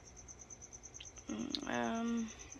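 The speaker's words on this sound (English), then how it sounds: "There's crickets in Ivy's cage" Crickets chirp in a steady, fast pulsing trill inside a gecko's cage, with a brief louder tonal call rising over them just past the midpoint before the chirping carries on alone.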